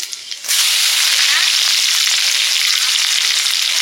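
Five-spice seeds, dried red chili and bay leaf dropped into hot oil burst into a sudden loud, steady sizzle after a quiet moment, crackling close and continuous to the end.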